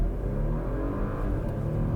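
Porsche Macan S, a 2020 model in Miami blue, launching hard from a stop: a loud, steady engine roar building continuously with revving, close and alone with no talking.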